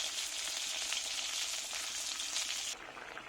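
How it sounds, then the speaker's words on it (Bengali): Fish fries in a pan with a steady, bright sizzle and crackle close up, cutting off abruptly near the end, with no voices. "মাছ ভাজা প্রায় হয়ে গেছে"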